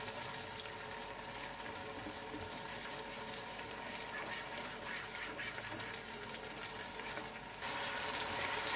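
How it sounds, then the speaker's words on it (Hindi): Ginger garlic paste and onions frying in oil for mutton yakhni pulao, a steady dense sizzle that continues unbroken close by and grows slightly louder near the end. "अब मैं इसमें लहसुन अदरक का पेस्ट डाल दूँगी, और मैं इसे भूनूंगी तकरीबन 1 से 2-3 मिनट तक।"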